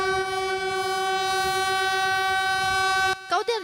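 A Taiwan Railways train sounds its horn in mourning: a single long, steady, tonal blast held for about three seconds, then cut off abruptly as a brief voice follows.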